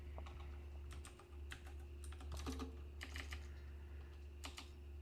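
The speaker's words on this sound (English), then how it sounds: "I like that clicking noise in the background" Computer keyboard keys click in quiet, irregular bursts of typing over a low steady electrical hum, with short pauses between clusters of keystrokes.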